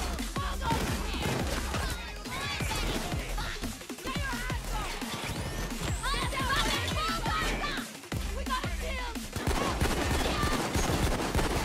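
Dense, rapid gunfire from a Payday 2 heist shootout, with bursts of automatic fire and single shots crackling almost nonstop over a busy mix of game noise and occasional voices.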